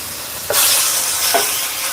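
Beef stir fry sizzles loudly in a hot pan, a sharp hiss that surges as the meat is stirred, with two brief scraping bursts, close and without voices.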